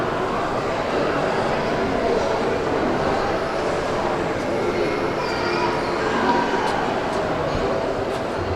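A train at York gives off a continuous, loud broadband rumble and rushing noise that stays even and close for the whole stretch.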